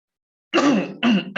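Two short, rough bursts of throat clearing and coughing, close and fairly loud, the second quickly followed by the start of another.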